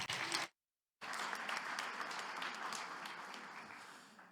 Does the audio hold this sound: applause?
yes